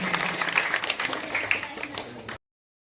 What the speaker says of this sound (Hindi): एक बार द्वारकाधीश के लिए जोरदार तालियां करेंगे।